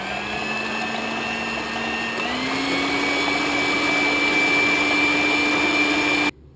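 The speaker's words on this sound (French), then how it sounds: "Je bats les 4 blancs d'œufs en neige ferme avec une pincée de sel" An electric hand mixer whips four egg whites with a pinch of salt into stiff peaks for a magic chocolate cake, a steady loud whirring hum that rises slightly in pitch partway through and then cuts off abruptly.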